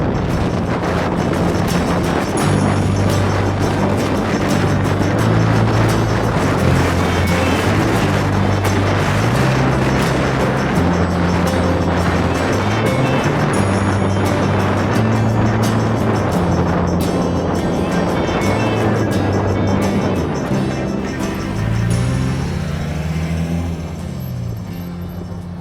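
A Land Rover Defender drives along the Extraterrestrial Highway in Nevada in strong winds, with steady engine drone, a low road rumble and heavy buffeting wind noise throughout, close and loud without speech.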